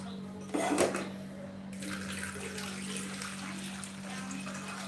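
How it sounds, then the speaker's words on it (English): Water splashes briefly into a pan for cinnamon tea, then settles into a quieter, steady pour and trickle over a constant low hum. "I'll also add water."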